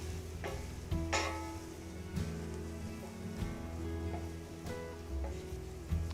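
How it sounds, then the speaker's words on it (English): Garlic sizzles in a pan of softened onions as butternut squash and barley risotto gets underway, a steady close frying hiss with faint stirring knocks and occasional scrapes throughout. "So right when the onions are soft, I'm just going to add the garlic."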